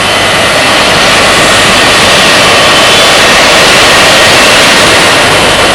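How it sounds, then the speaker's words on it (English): Messerschmitt Me-262 jet fighter engine roaring loud and steady, a dense unbroken blast of jet noise filling the whole stretch with no voices. "Its Me-262 jet fighter blazed the trail into a new era."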